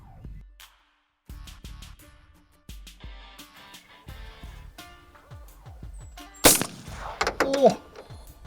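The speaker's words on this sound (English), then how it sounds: "When these little 17s hit, they go thump." A .17 caliber rifle fires outdoors during a hunt, a sharp loud crack followed by a dull thump of the bullet striking, amid scattered clicks and handling noises, with a louder burst near the end.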